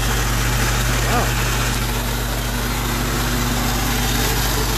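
A Willys engine runs with its starter stuck on, a loud rough rattling drone under a voice talking over it.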